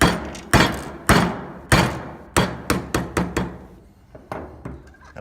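Hammer blows on a pipe or socket, driving a bearing down onto an AC pump motor shaft: about a dozen sharp, loud metallic strikes in an irregular rhythm, each ringing briefly, close by and with no talking.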